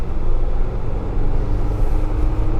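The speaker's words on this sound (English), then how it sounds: "You can probably hear there's quite a bit of engine noise coming into the cabin." Inside the cabin of a 2019 Jeep Wrangler while driving, a steady low engine drone and road rumble fill the background continuously, with no talking.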